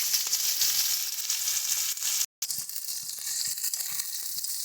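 Onions fry in hot oil in a karai with a loud, continuous sizzle that fills the clip, broken only by a brief gap.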